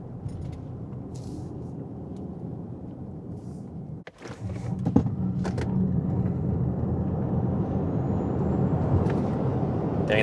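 A Polestar 4 electric car, a 544 hp dual-motor model, accelerates hard in sport mode. Steady road and wind roar builds after a brief dip, rising and staying loud to the end, with no speech.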